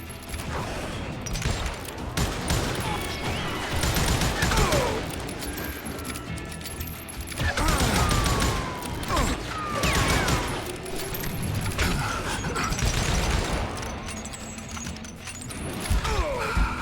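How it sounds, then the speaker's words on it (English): Rapid, sustained gunfire from the Western shooter game Call of Juarez: Gunslinger, with overlapping shots and bursts crackling steadily throughout, loud and dense with no clear pauses. "Where are they shooting at me from?"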